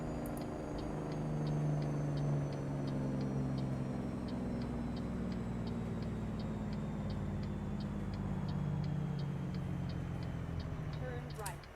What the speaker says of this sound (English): Listen to these jakes